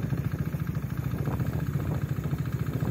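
A 390 motorcycle engine idles steadily nearby, a continuous low rumble with a fast, even pulsing throb and no voices over it.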